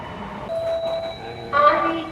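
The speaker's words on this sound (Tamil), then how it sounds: "ட்ரெயின் வந்துடுச்சு, ட்ரெயின் வந்துச்சு" Mumbai's first fully underground metro train pulls into a platform 120 feet below ground, a steady rumble with a high whine rising and a brighter surge of wheel and brake noise near the end, with faint voices in the station.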